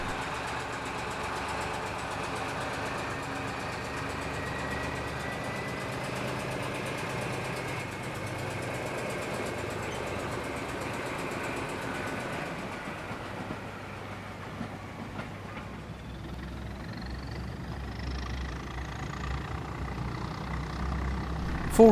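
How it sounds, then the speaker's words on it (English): A Heljan Class 14 OO gauge model diesel locomotive hums steadily as it hauls tank wagons, a quiet, continuous motor drone with faint rail clicks and a rising whine near the end. "Here our loco heads off with tank wagons for another yard, where it will pick up more for transfer to a local refinery"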